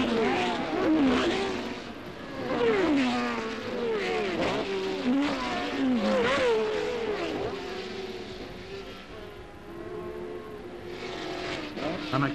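A new March race car racing in a 26-lap heat at Silverstone, its engine whining up and down in repeated sweeping passes, loud and close, then fading toward the end.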